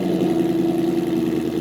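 A 2020 Chevrolet Corvette C7 idles with a steady, deep burbling engine and exhaust drone, loud and close with no variation in pace.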